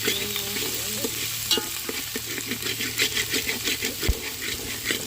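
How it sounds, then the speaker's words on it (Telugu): Masala curry base frying in a pan while being stirred, a steady close sizzle with repeated scraping strokes of the spoon across the pan throughout, no talking. "బాగా ఫ్రై అవ్వాలండి ఇప్పుడైతే మసాలా అయితే వేగింది కదండి మరీ మాడకూడదు కదా"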